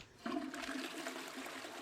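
Toilet flush in the video game Football Life Simulator: a single steady rush of water starts sharply and keeps pouring at an even level, heard alone with no talk.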